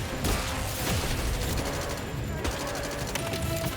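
Sustained machine gun fire in the 007 First Light video game, a continuous rattling fusillade with heavy low rumble and a few sharper impacts, moderately loud throughout.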